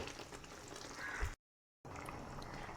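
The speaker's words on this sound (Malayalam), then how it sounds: "ഇപ്പം തിളച്ച് വന്നിട്ടുണ്ട്." Tuna curry with added water simmers under a lid in a pot, giving a faint, steady bubbling that cuts out briefly to silence before resuming.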